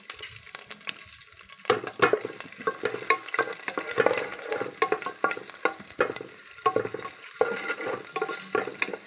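Green chillies and curry leaves frying in oil for a dhaba-style chicken curry, a dense crackling sizzle with frequent spoon-stirring scrapes and clinks throughout, close and steady, no voices.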